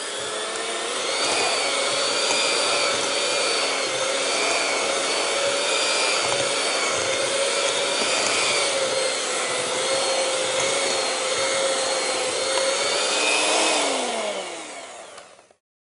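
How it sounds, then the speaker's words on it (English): An electric hand mixer whirs steadily through zucchini bread batter, a loud continuous motor drone with a slight pitch shift near the end before it switches off. "I'm going old school with the hand mixer."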